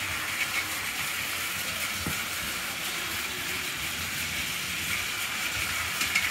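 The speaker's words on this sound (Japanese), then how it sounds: "貨物列車出発進行。" A Plarail toy freight train with container wagons departs and runs along its track, giving a steady, even whirring hiss that holds at one level throughout, with no voices.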